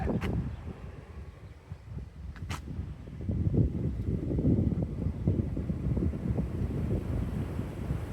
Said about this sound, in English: Man, that wind is kicking.